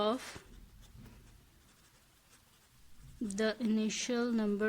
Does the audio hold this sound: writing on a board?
yes